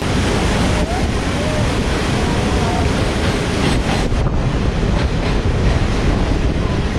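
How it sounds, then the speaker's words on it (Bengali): Water rushing through the lowered gates of the Farakka Barrage, a loud, steady broadband roar that stays constant and close throughout, with wind buffeting the microphone. "এখান থেকে জল যাচ্ছে, এই যে সাউন্ড হচ্ছে"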